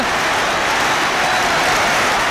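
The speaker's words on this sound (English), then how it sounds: "an absolutely spontaneous round of clapping, not cheering, as this crowd rises to that tremendous run by Brooking" A football crowd at a 1969/70 West Ham match breaks into sustained spontaneous applause, a dense, even wash of many hands clapping without cheering.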